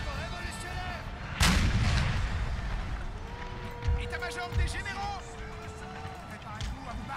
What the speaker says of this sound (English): We gotta stop these cannons from shooting again.